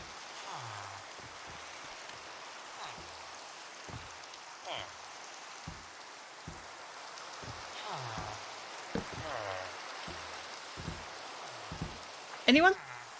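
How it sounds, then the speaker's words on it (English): Rain patters steadily in Minecraft, a soft constant hiss at low level, broken by scattered short game thuds and a brief louder burst near the end. "It sure does like to rain around here."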